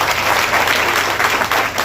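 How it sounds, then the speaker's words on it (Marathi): Dense, steady applause from a kirtan audience in a Maharashtra village gathering, many hands clapping together loudly and continuously throughout, with no speech over it. "ज्यांचं लग्न झालं नाही त्यांनी टाळ्या वाजवल्या"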